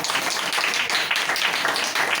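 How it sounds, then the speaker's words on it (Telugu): An audience at a church sermon claps its hands in dense, steady applause that blends many overlapping claps into a constant rush of sound. "చప్పట్లు కొట్టండి"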